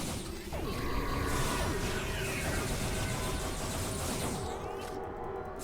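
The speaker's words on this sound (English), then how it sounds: "Oh, that's a grenade. Jesus, a plasma grenade." A plasma grenade in the Star Trek Online video game, heard as dense, continuous combat noise with grinding, crackling textures and sweeping whooshes, loud throughout and free of speech.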